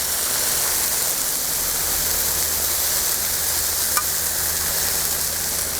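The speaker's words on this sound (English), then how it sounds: "we're just going to go ahead and let these finish cooking with those onions on top" Smash burgers topped with onions sizzle on a Blackstone griddle, a steady dense hiss of frying that holds evenly throughout with no talk over it.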